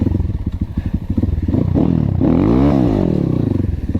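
A KAYA 612 motorcycle rides across grass, its engine loud and close with rising revving strokes, some clattering and thumps, and no talk.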